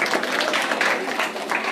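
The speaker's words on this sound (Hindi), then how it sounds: "ताली हो जाए उसके लिए" Children in a classroom clap together in applause, a dense, steady patter of small hands under faint voices.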